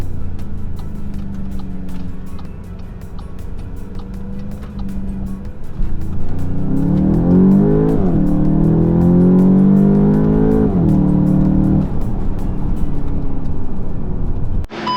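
A Volkswagen Golf 8 GTI with a 2-litre engine idles low, then accelerates hard with rising revs and shifts heard as stepped sweeps, loud and close, easing off near the end.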